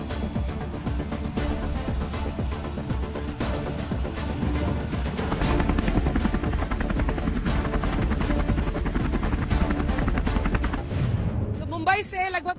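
A helicopter in flight over Maharashtra, India, heard from on board or close by: a loud, steady engine and rotor roar with rapid rotor chop, running continuously and then fading out abruptly at the end.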